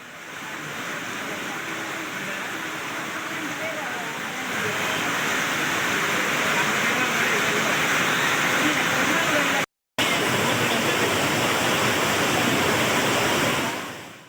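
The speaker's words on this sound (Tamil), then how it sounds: "திண்டுக்கல் மலைக்கோட்டையில் இருந்து மழைநீர் அருவி போல் கொட்டும் காட்சிகள்" Heavy rainwater pours like a waterfall down the Dindigul rock fort, a dense, steady roar of rushing water that grows louder partway through and holds at a constant, close level.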